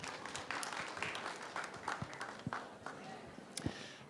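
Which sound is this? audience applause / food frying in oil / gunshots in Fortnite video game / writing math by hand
audience applause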